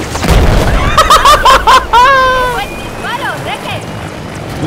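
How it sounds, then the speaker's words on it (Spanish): A Battlefield 4 helicopter crashes and explodes in a short burst of booming noise near the start, then excited players shout and talk loudly over the fading game sounds. "¡Se cayó el helicóptero!"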